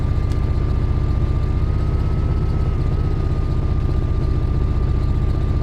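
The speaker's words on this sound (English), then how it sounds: "engine's just changing gear" Diesel drone of a DB Cargo Class 66 freight locomotive in a train simulator, loud and steady low rumble with a sustained tone that dips slightly and shifts as the engine changes gear.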